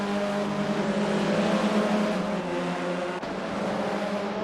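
Formula 4 race cars at Zandvoort in Assetto Corsa, several engines droning and whining together at steady high revs through a final-lap battle, loud and continuous with no pauses.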